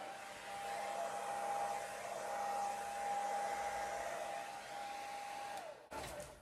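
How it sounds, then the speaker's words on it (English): Steady hiss of a hair dryer blowing white acrylic paint across a round canvas in a Dutch pour, with a constant whine, running close and loud for about six seconds before cutting off abruptly. "I'm just going to blow the white over first just to see what kind of reaction I get"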